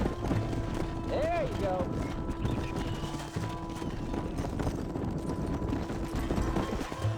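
A herd of horses in Red Dead Redemption being led into a pen, their hooves clip-clopping steadily under a continuous bed of outdoor ambience while someone speaks briefly.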